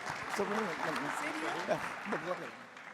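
Audience applause at a symposium, broad steady clapping running under a voice that talks throughout, moderately loud and continuous across the moment.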